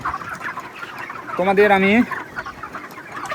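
Chickens clucking in a poultry shed on a village farm, a clear drawn-out hen call rising briefly above a steady background of softer clucks, with someone talking quietly.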